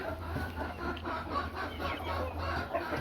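A small farm flock of Americana, Chanticleer and Cochin cross chickens clucks steadily at mid distance. Many overlapping soft calls continue throughout over a low background hum.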